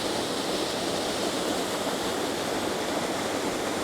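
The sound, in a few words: waterfall of fresh mountain spring water in Samoa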